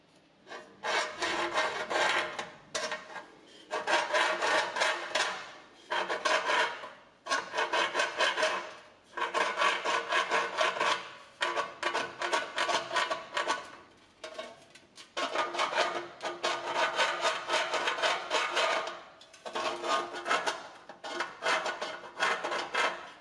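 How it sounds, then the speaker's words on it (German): A scribing template drags across sheet metal, marking a 5 mm edge on a Ford lamp housing, in repeated scraping strokes separated by short pauses, loud and close with no talk. "Mit einer Anreißschablone wird ein 5 mm tiefer Rand eingezeichnet."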